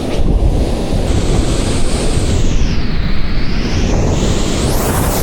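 Strong surf pounds and washes continuously along a beach at Guiuan, loud and close, with heavy wind buffeting the microphone throughout and no voices.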